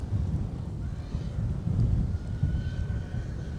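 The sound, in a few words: heavy rain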